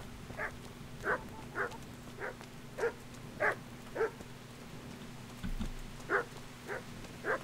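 Repeated barking from a dog in Kingdom Come: Deliverance, around a dozen sharp yips at an uneven, brisk pace over several seconds, fairly close, with a low ambient drone beneath and no talking.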